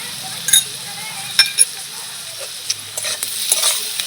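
An egg dish with ground black pepper and cumin cooks in a pan with a low sizzle, broken by intermittent clinks and scrapes of a spoon stirring against the metal.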